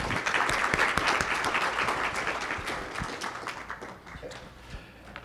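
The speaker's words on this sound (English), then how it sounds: "round of applause for the Chief." An audience at a community gathering applauds the Chief, loud dense clapping with distinct sharp individual claps that thins out and fades over the final seconds.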